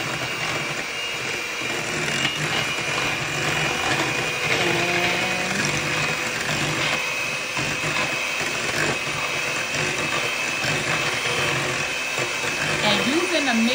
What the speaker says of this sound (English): using a mixer is a lot quicker than trying to mix this by hand with a whisk